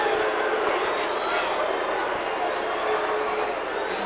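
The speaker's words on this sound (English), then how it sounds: "And you hear the crowd." Spectators fill an arena at a high school boys' wrestling state final, a loud sustained crowd roar of cheering and mixed voices that holds steady throughout, with a voice talking over it.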